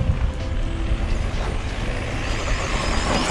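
An Arrma Senton Boost 4x2 RC truck with a brushed motor runs at full throttle, a dense, continuous motor whine and gravelly roll that holds steady and close for several seconds, with no talking.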